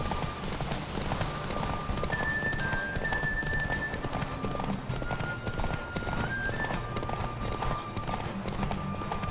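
Galloping horse hooves in The Witcher 3 video game pound in a rapid continuous rhythm over layered game music, with an occasional whinny, steady and close for the whole stretch.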